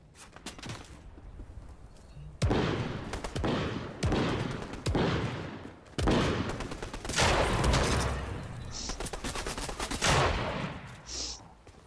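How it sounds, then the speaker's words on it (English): Fortnite gunfire inside and around a house, with repeated sharp shots and short bursts that come loud and close. Some shots are spaced apart and some cluster into rapid volleys, with brief lulls between them. "There's someone in the house here. Somebody's shooting at me."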